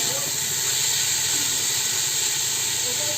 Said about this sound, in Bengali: দিয়ে ভালো করে সব কিছু নাড়তে থাকলাম, যাতে ভালো করে একটু ফ্রাই হয়ে যায়।